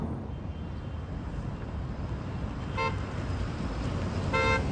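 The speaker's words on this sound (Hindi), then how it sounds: "भाई बहुत जाम है, अभी भी नहीं निकाल रहा गाड़ी में।" Cars crawl through a heavy traffic jam on a flooded Kuwait road under a steady wash of engine noise, with two short, clear horn honks near the end.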